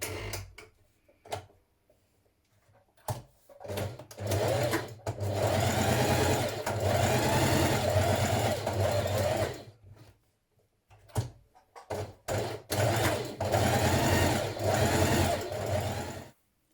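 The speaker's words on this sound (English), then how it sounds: "Straight stitch." A sewing machine straight-stitches the back pieces of a Simplicity 8875 summer dress, running in long steady bursts with pauses between them, broken by clicks and handling taps.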